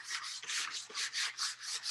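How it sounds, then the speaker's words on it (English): Sandpaper rubs back and forth across a piece of wood in quick, even strokes, a close, dry rasping that repeats about eight times with no talk. "And here is the sanding."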